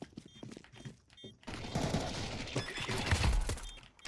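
Gunfire in a first-person shooter match during a bomb-defuse round, sparse shots early then a denser burst of rapid fire with impacts, fairly close and loud, with no voices over it.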